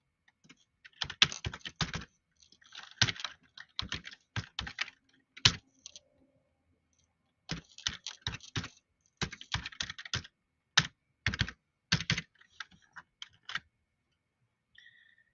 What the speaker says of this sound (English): let me type my GitHub link